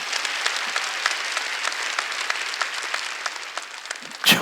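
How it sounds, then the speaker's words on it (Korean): A church congregation applauds during a Wednesday worship service, a dense, steady wash of many hands clapping for several seconds before it breaks off. "박수 치려면 세게 치"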